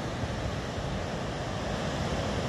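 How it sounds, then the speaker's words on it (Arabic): Sea waves break along the shore at Larache, Morocco, a continuous broad wash of surf mixed with wind noise, steady and unbroken with no talk. "تراكم الأمواج."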